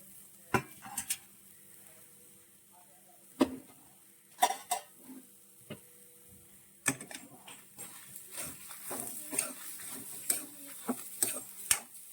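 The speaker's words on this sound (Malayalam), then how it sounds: "പിന്നെ ഒരല്പം പെരിഞ്ജീരകം കൂടി ചേർത്താണ് വറുക്കുന്നത്." Dried red chillies and fennel seeds frying in a pan for a Kerala bitter gourd curry, with soft sizzling under repeated sharp clinks and scrapes of a spoon stirring against the metal pan, close and fairly loud.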